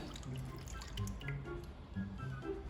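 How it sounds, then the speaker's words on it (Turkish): A cup of warm milk poured for poppy-seed bun dough, a soft, low, steady liquid gurgle with light dripping, quiet and close. "İlk olarak hamurunu hazırlamakla başlamak istiyorum. 1 su bardağı ılık süt,"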